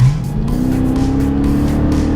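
A Dodge/Chrysler 5.7 Hemi V8 with an aftermarket performance exhaust rumbles loudly and steadily, its deep drone rising slightly in pitch as the engine revs up, heard alone without talk.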